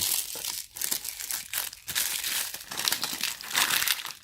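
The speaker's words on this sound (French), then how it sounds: "on va tout déballer. On va tout mettre dans notre petite poubelle." LOL Surprise toy packaging is unwrapped and crumpled by hand, giving dense, close crinkling and crushing of plastic and paper in continuous bursts separated by a few brief pauses, with no talking.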